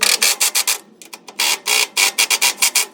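A power driver fitted with a 17 bit tightens bolts on a trimmer rack bracket mounted to wood. Loud, close whirring bursts come in quick, uneven pulses with short gaps between them.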